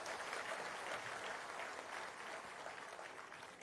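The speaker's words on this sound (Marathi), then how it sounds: "त्याच्याबद्दल पहिल्या टाळ्या तुम्ही सगळेजण वाचवा." Sustained audience applause fills the hall at a Marathi workshop event, a dense, steady clatter of many hands clapping together that holds loud throughout and eases only slightly toward the end, with no voices over it.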